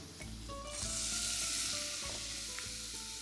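Button mushrooms fry in butter and oil, giving a steady close sizzle with stirring scrapes and a few light clicks, with no voices.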